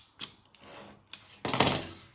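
Paper edges of a handmade seed pocket planner being trimmed about an eighth of an inch all round, with short scraping cuts early on and a louder, longer rasping cut near the end, close and alone.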